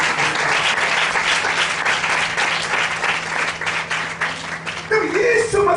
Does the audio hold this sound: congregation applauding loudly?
yes